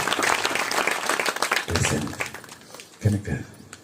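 An audience at a church retreat meeting, in an afternoon session, claps in uneven bursts. The clapping swells and fades, with a louder burst near the end, and a voice speaks over parts of it.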